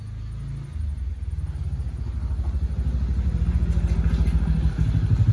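A motorcycle engine rumbles close by, its steady low throb growing slightly louder and more pulsing over a few seconds, with no voices over it.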